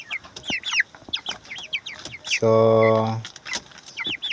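Twenty-four-day-old broiler chickens cluck and chirp in quick, overlapping calls close by, with a brief steady tonal call in the middle and a single spoken word.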